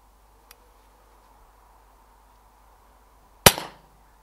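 A Weihrauch HW97 air rifle fires a single sharp, close crack at a rat in a farmyard after dark. Before the shot there is near silence and one faint click.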